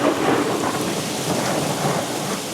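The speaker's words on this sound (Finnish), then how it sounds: "On ollut ihan tässä päällä tuo ukkonen." A thunderstorm rolling directly overhead in the Piedmont countryside: dense, steady rainfall over a deep, sustained rumble of thunder, close and loud with no voices.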